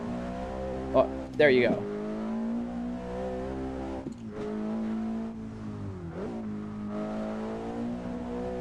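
A car engine in the Assetto Corsa racing game revs hard toward redline, a steady high-pitched drone rising and falling with a couple of sharp spikes, running under continuous chatter from people talking.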